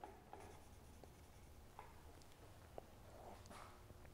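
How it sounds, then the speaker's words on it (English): A pencil scratches short marks onto wood during cross half lap joint work, with faint scraping strokes and a few small taps, quiet and close, no one speaking. "I'll make a mark with the pencil"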